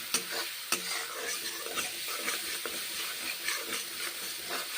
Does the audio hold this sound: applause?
no